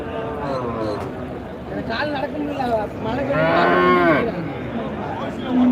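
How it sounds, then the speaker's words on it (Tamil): Native cattle at the Manapparai cattle market moo loudly and close by, one drawn-out low call standing out above a steady hubbub of people talking nearby. "நாட்டு மாடெல்லாம் பாருங்க"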